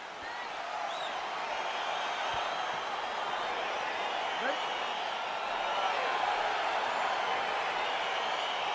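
A UFC arena crowd roars steadily as the fight gets underway, a dense, sustained wash of cheering and shouting that holds at a constant level throughout with no break.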